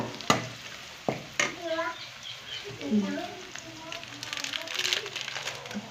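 Garlic is stirred into bhindi curry frying in a pan, a few sharp clinks of a spoon followed by a steady low sizzle, with someone talking over it.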